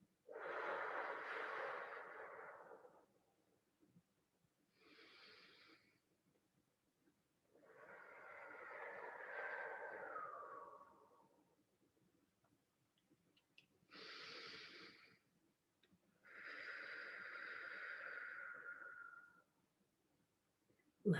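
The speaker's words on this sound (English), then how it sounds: "Inhale through the nose." Slow, deep breaths drawn in and pushed out through the nose during a Kundalini meditation, a breathy hiss in long, evenly spaced pulses separated by quiet pauses, close and fairly soft.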